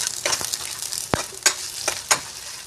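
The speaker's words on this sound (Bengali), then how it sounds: "এরপরে পেঁয়াজটাকে হালকা পরিমাণে একটু নেড়ে ছেড়ে দেবেন" Finely chopped onions fry in hot oil for a chicken and potato dish, giving a soft sizzle broken by several sharp scrapes and clicks as a spatula stirs them briefly.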